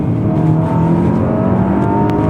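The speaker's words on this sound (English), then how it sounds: "So if I decide to downshift, listen, immediately, downshift to second" Audi Q5 engine revving loudly and steadily from inside the cabin on a downshift to second gear, a continuous close roar with no talk over it.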